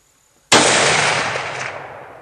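A single loud rifle gunshot fired at wild hogs cracks sharply out of near silence, then rolls away in a long echoing boom that fades slowly.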